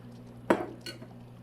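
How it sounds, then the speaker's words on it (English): Clams are stirred into simmering clam chowder, giving one clear utensil scrape and clink against the pot followed by a softer second stir, close and brief over a low steady background hum. "We're gonna mix our clams up."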